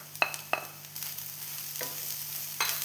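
Jaggery is stirred and roasted in a pan, with quiet scrapes and a few sharp taps of a spoon against the metal over a faint sizzle and a low steady hum.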